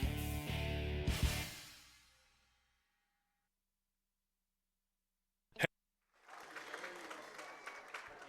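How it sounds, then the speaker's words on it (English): Fans in the stands at a Friday night high school football game between Danville and Centerburg applaud an injured player walking off, a dense crowd clapping that fades to silence, followed by a single sharp thump and renewed distant crowd noise. "Spalding is able to get back up on his own feet and walk off under his own power to the applause of the Danville faithful"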